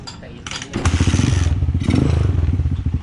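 A Rusi KRY 150 motorcycle, just repaired after a faulty rectifier, kicks and catches, its engine firing into a rapid, steady loud putter close by while someone speaks over it.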